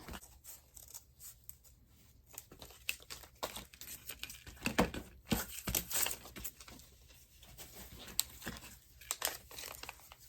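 Scissors snip through paper while an Easter craft piece is cut out, with irregular crisp rustles and crinkles as the sheet is handled, close and quiet with no talking.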